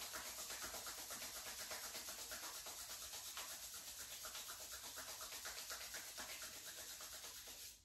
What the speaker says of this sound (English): let's just rub our hands together nice and warm.